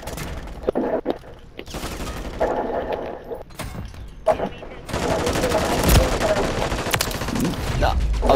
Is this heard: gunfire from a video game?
yes